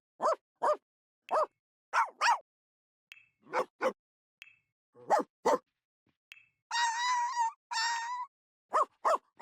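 A cartoon puppy in The Sims yips and barks in quick bursts of short, bright yelps, with a couple of longer whining cries near the end, clear and close with quiet gaps between.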